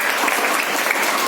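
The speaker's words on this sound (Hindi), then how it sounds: "ताली बजा दीजिए।" Children applaud in a classroom after a pupil answers a question about neem, with steady, dense clapping filling the short moment at close range and no talk over it.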